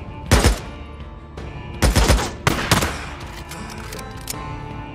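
Bursts of rapid gunfire in the game Days Gone, several loud volleys separated by short pauses, with rattling shots trailing between them.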